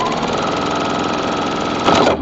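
A sewing machine stitches quilt fabric for disappearing nine-patch blocks under the presser foot. It gives a steady, close mechanical hum with a brief louder burst near the end.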